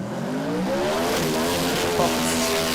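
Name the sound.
small block race car engine revving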